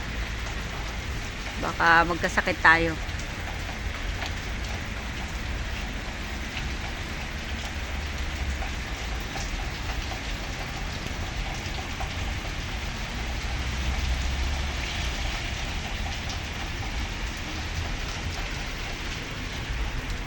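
Steady rain falls on a cold, wet day, a constant wash of drops spread evenly throughout, with a brief voice speaking near the start.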